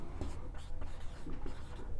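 Pen scratching on paper during a maths lesson, soft rapid strokes in short bursts, close and quiet beneath a low room hum.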